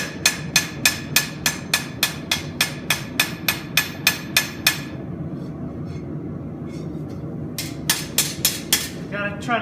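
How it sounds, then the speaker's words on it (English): A hand hammer taps a knife blade's edge bevel against an anvil, making a fast, even run of sharp metallic strikes, a short pause, then another quick series of blows close to the listener. "You just tap that edge down"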